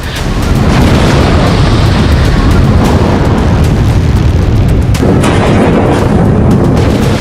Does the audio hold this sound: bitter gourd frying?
no